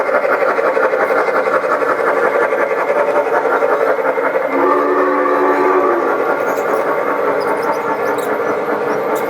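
An Alco ABA locomotive set on an indoor model railroad layout runs past, a loud, continuous rolling rumble and whirr with squealing wheel tones rising and shifting midway.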